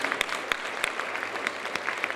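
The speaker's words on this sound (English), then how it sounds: "Let's give him a round of applause, please." An audience at a Brooklyn borough president's funding announcement for Kings County Hospital's newborn ICU gives a round of applause: scattered, moderately loud claps from a modest crowd, fairly sparse and uneven.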